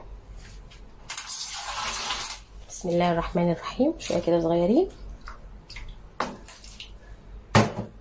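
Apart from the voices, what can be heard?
pouring a little water over potatoes in a baking tray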